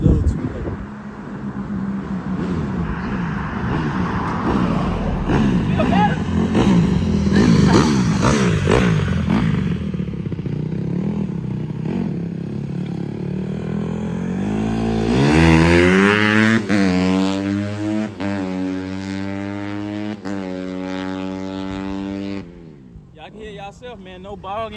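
A 2016 Honda CRF150R dirt bike engine idles and revs up close, its pitch climbing in a strong rising sweep partway through before cutting off near the end, with people talking over it.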